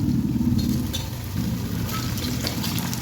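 Dal batti dough dumplings sizzle in hot oil, a dense continuous frying hiss that holds steady and close throughout with no voices.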